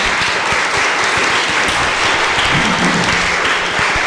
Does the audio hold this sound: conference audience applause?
yes